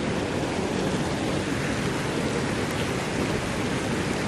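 A mountain river flows down between hills beside a diverted channel feeding a water mill, giving a steady, loud, dense rush of water with no break and no voices.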